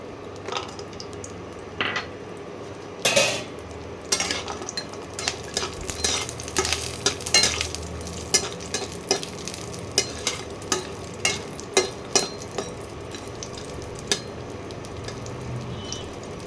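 Bori, small sun-dried lentil dumplings, frying in hot oil in a pan, with a steady low sizzle beneath a run of sharp spatula scrapes and clinks as the pieces are stirred and turned, close and fairly loud, with no talking.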